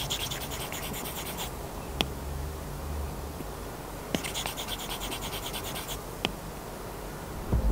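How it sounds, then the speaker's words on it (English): An Apple Pencil scratches across an iPad fitted with a Paperlike paper-textured screen protector, making a dry papery rasp in short bursts of writing strokes, separated by faint taps and pauses, close and alone. "So when using any Apple Pencil on any iPad, it will feel a lot more like drawing or writing on real paper."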